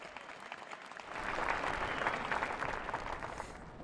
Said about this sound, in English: let us welcome our President and his address with another round of applause